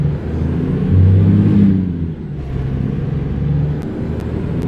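A truck engine in American Truck Simulator drones steadily with a low rumble, swelling slightly early on then settling, close and loud with no talking.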